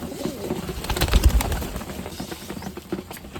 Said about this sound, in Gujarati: અહીંયા બધા કબૂતર છે ને ખાવા માંડ્યા છે